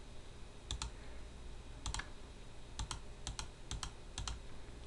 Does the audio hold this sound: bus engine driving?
no